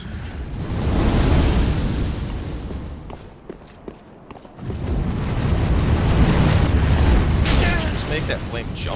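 Fire knight flame attacks in a Dark Souls 3 boss fight in Irithyll of the Boreal Valley: loud, sustained roaring fire bursts with booms, then a quieter stretch of scattered thuds before the roaring returns.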